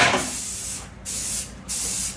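Short bursts of aerosol spray hissing close up, three presses separated by brief pauses.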